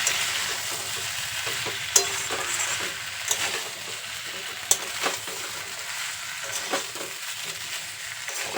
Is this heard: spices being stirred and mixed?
yes